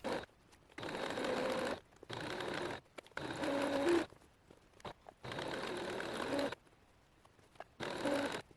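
A sewing machine stitches along the waistband edge of homemade pajama boxers or pants in several short bursts of a second or so, separated by quiet pauses, heard up close.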